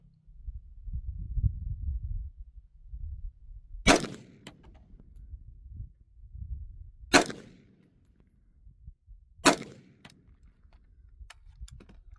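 Three AR rifle shots fired at a target, each a sharp, loud crack spaced a few seconds apart, with low rumbling background noise between them.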